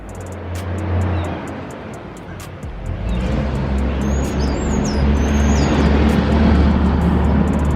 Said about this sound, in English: Loud ass truck, construction work.